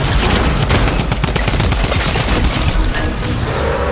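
Shotgun gunfire in a fast-paced shooter video game fired at close range, dense loud bursts of blasts and booms packed together throughout without a break, no voices.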